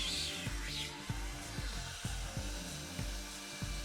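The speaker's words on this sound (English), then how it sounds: "then we're going to start sucking the fluid out" A wet and dry extraction machine sucks fluid from a car seat, giving a steady motor whine with a regular rhythmic clunk about every half second as the nozzle strokes across the upholstery. The sound is close and there are no voices.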